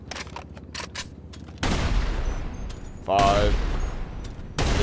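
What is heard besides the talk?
explosive sniper shots in video game GTA Online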